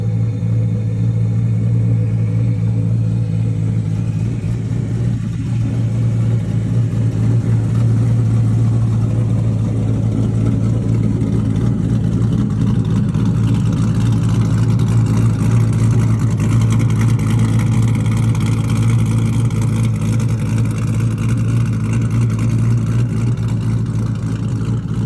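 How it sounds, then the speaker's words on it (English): A 2021 Boss Hoss trike's big engine rumbles steadily for the whole stretch, a loud, deep, continuous drone with mild swells in revs and no talk. "2021 Boss Haas Trike."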